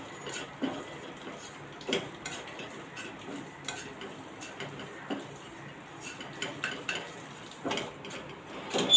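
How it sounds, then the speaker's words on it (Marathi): Flour is stirred into butter in a pan over low heat, giving soft, irregular scrapes and light clinks of a utensil against the pan, faint and close, with no talk. "स्लो गॅसवर आपण हा मैदा चांगला परतून घेणार आहोत"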